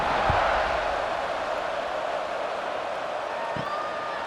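Football stadium crowd at a night game, a loud, continuous roar of fans filling the space, with a couple of brief low thumps and a commentator's voice over it.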